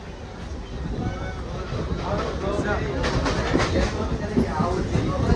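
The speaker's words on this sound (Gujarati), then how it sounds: "આ ટ્રેન છે અમારી." Steady rumble and rattling of a moving train, with faint clacking and a person talking over the noise.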